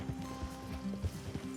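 Horses' hooves clip-clop softly in Red Dead Redemption 2, a brief run of quiet, uneven steps at middle distance with faint game ambience.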